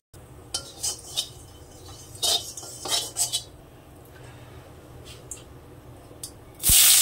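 A few cumin seeds tossed into hot oil in a heated kadai on a gas stove set off scattered crackles and sharp metallic clinks, with a loud hissing burst near the end.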